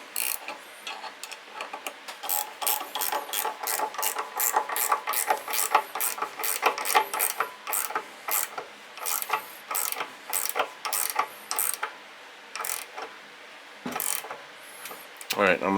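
A ratchet tightens a screw with a lock washer and fender washer on an Ariens ST724 snowblower being re-powered with a Predator 212 engine, a long run of loud, close, rapid rhythmic clicks.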